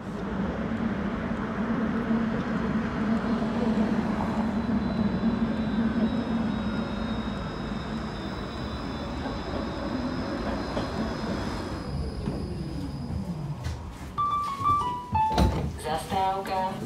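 A tram in Košice, Slovakia rumbles along rails with a low steady hum, then slows and squeals, ending with a few sharp electronic chimes.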